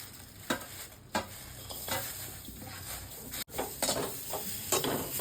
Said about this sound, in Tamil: தேங்காய் வந்து நல்லா ஒரு ஒரு கலர் கொஞ்சம் மாறுற அளவுக்கு வறுத்துட்டு வச்சுக்கிறது